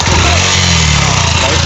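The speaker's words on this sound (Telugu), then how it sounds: "బైక్ స్టార్ట్ అయిన తర్వాత ఇలా సౌండ్ వస్తుంది." A kick-started motorcycle engine idles nearby in an even, unbroken putter, steady and fairly loud for the short stretch.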